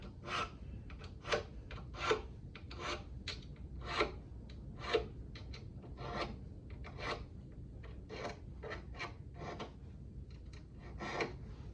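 Guitar frets being filed smooth at their ends, a steady series of short rasping strokes in uneven rhythm, close up and fairly quiet with no talking.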